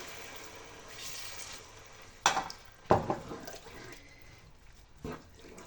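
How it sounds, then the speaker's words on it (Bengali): Water is poured into a hot pan of sautéed potato, pointed gourd and carrot. A low frying hiss is broken by a few sharp splashing, sizzling bursts, close and moderately loud, with no talk. "এবার দিয়ে দিচ্ছি জল।"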